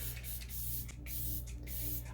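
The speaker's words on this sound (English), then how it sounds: "I always like to do my setting spray before I do my mascara" Setting spray puffs onto a face in a few quick, soft hisses over a steady low hum, close and quiet.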